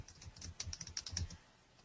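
Computer keyboard typing a file name, a quick run of close, crisp key clicks lasting about a second before trailing into quiet.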